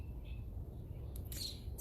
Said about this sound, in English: Birds are still singing.